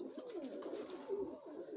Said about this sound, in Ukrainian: Ой, голубі.